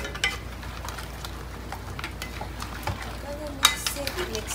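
Mussels (tahong) being stirred in a pan for a sweet and spicy seafood dish, with a steady low sizzle under scattered utensil scrapes and light clinks, one sharper clatter near the end.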